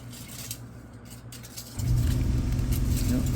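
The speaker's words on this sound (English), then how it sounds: "there goes my compressor" An air compressor in a restoration shop kicks on partway through, its low, steady motor drone rising sharply and continuing loud after quieter background hum.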